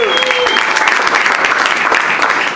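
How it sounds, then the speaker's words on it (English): An audience at a hip-hop interview event applauds and cheers loudly and steadily, a dense wash of clapping with whoops throughout. "Make some noise for Big Daddy Kane one time."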